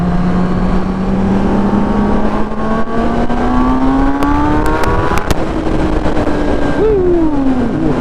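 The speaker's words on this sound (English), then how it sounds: "Let's see what the fuss is about on a liter bike here." A 2018 Kawasaki ZX10R liter bike accelerates hard, its engine pitch rising steadily and loudly under heavy wind rush, then settling after a quick shift near the end.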